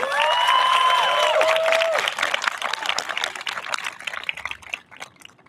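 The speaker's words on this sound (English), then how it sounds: "Can we have a well-deserved round of applause for our parents?" Applause for parents at a charter school graduation ceremony, beginning under a sustained tonal sound and then continuing as scattered, crisp clapping from the crowd that gradually thins and fades.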